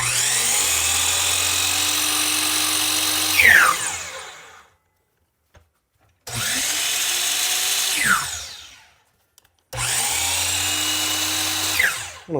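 A Harbor Freight Hercules saw's motor runs at a loud, steady whine in three bursts, each winding down at the end, with short silences between; no one speaks.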